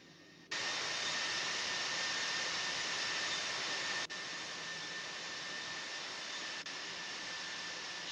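Steady, loud jet engine roar of an airliner taxiing in the Infinite Flight simulator, a Boeing 747 with broadband whine and tonal hum, continuous and close with no talk.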